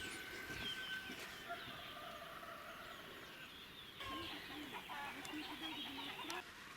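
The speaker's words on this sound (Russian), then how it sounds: "Иногда разборчиво слышно, что это петухи." Several roosters on a chicken farm in the Wulingyuan mountains in China crowing in turn, heard at a distance and faintly against a steady outdoor background hiss.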